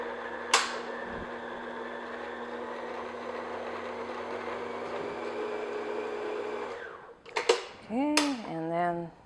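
An electric mixer beats flour into cake doughnut batter, a steady whirring drone that runs for several seconds before cutting off, followed by a few clinks and a voice.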